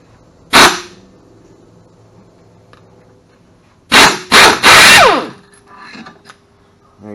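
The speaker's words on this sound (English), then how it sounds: "So when I use my impact gun, I'm actually going to go in forward or tightening on the gun to get the bolt to come out" An impact gun rattles on a reverse-threaded bolt on a Club Car DS golf cart: one short loud burst, then a pause, then three quick hammering bursts, followed by faint clinks of the loosened part.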